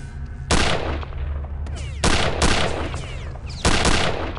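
Gunfire in the shooter Return to Castle Wolfenstein: three loud, sharp shots ring out about a second and a half apart, each leaving a short decaying echo over a low rumbling background.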